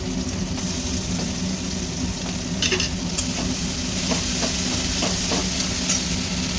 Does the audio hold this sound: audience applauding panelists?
no